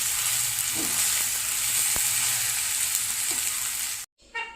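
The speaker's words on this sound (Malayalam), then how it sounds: "മഞ്ഞൾപ്പൊടി ഇത് നമുക്ക് ചെറുതായിട്ടൊന്ന് വഴറ്റിയെടുക്കാം" Steady oil sizzle from a pan as turmeric powder is sautéed, with a few soft stirring scrapes and a sharp tap, before the sound cuts off abruptly near the end.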